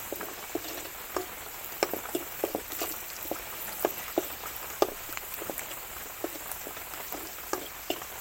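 Semolina with chilli powder and turmeric being sautéed in a pan: soft, faint crackling and irregular small ticks of stirring over a quiet steady hiss, with no talking.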